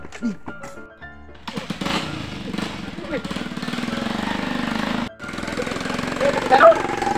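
A motorcycle engine running steadily close by, with people talking over it.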